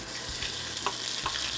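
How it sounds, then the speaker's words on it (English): Rice tossed into a hot wok of garlic-infused oil gives a loud, continuous close sizzle with a couple of soft scraping knocks. "What we want to do is add our rice."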